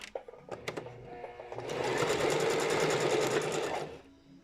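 A sewing machine runs a steady, close-up stitching burst for about two seconds while sewing an elastic seam, preceded by a few short start-and-stop pulses of the needle.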